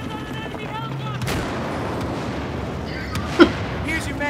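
Gunfire in the video game Battlefield 4 on the Zavod 311 conquest map, a few sharp cracks and distant booms with one loud close shot near the end, under fragments of voices.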